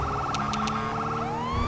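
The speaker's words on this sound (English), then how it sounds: "Now, the custom sirens" A custom police siren from the GTA 5 LSPDFR mod sounds continuously and loudly, a wailing tone that sweeps upward near the end, with a few short bright chirps layered in.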